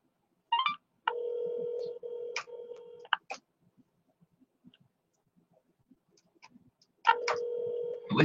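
Telephone ringback tone purring in repeated two-part bursts, with a short dialing or connection click at the start, a long quiet gap and another ring at the end as the call goes unanswered; fairly faint.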